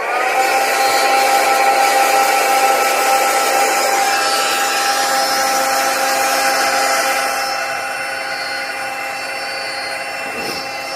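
Close, loud, steady roar of a heat tool blowing on painted card from the back, holding constant for several seconds and then easing slightly toward the end, with no talking.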